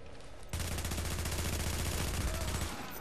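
Sustained rapid gunfire from a firefight in The Division's Dark Zone, a dense rattling burst of shots that kicks in after a brief quieter lead-in and continues loud and close to the end.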